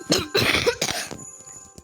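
A person coughs several times in quick succession, close and fairly loud, then clears the throat, with no talk.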